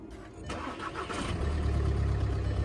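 A 2012 Volkswagen Passat diesel starts by push button: a brief starter whir, then the engine catches and settles into a loud, steady, close low rumble at idle.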